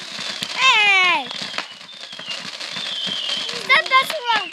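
Memorial Day fireworks go off outdoors near a pool, sharp crackling pops scattered throughout, mixed with nearby voices and what sounds like a cat meowing.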